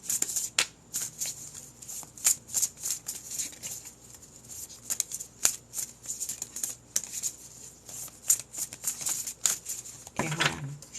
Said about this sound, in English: One moment, one card just flew out as I shuffled.